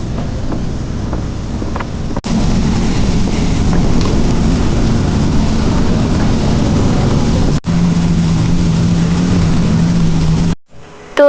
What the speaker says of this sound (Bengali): ওই দিন আমরা বাড়িতে যাওয়ার সময় অনেক বেশি বৃষ্টি ছিল আর সেই সাথে অনেক বাতাসও ছিল